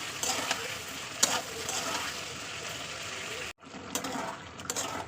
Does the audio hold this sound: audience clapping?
no